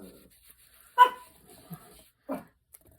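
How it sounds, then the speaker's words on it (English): A dog barks a few times in a quiet room, two or three short sharp barks spaced apart, fairly close. "And there goes my dog."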